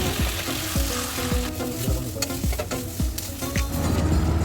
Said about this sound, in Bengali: দিয়ে আরেকটু ভেজে নিয়ে জল দিয়ে কষিয়ে নেব